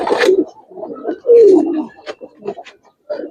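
Giribaz and coloured pigeons at a pigeon farm give several low, rolling coos in bursts, close by, with a voice talking intermittently between and over them.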